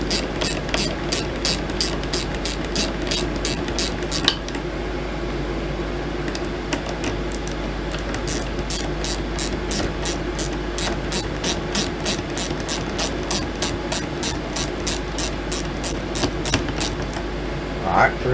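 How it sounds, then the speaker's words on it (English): Ratchet wrench turning a short bolt on a BAL Accu-Slide, with long runs of rapid, evenly spaced metallic clicks close up and a brief pause partway through, over a steady mechanical hum. "I don't think there's room to get a ratchet wrench in there on that. Oh yeah, there is too."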